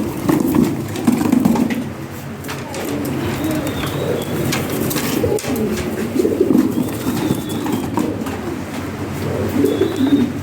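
Several pigeons, pairs being handed over for delivery, give repeated soft, throaty coos close by in overlapping rounds, with faint rustling and no talk.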